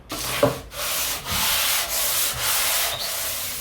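Steady abrasive scraping of a stone rubbed back and forth on sandpaper, several long strokes with brief pauses between them, close up.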